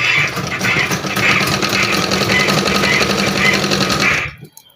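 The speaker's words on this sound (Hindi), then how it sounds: "और इसको भी हम सिलाई कर देंगे।" A sewing machine stitches a hand-worked bedsheet cover in a steady, loud mechanical run of rapid needle strokes, cutting off abruptly near the end.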